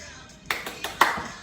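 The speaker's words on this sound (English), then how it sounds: "See how many times you can clap." Three or four sharp hand claps at a second-grade class activity, coming in quick succession after a short quiet lead-in. They are fairly close and moderately loud.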